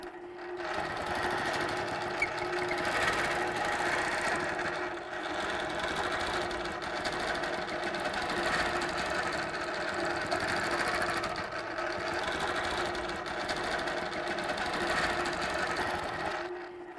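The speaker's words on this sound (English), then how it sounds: "So I got to stitch down to the ruler in the ditch," A sewing machine runs steadily, stitching a quilt along a quilting ruler in the ditch, its even mechanical hum and rapid needle rhythm continuous and close throughout.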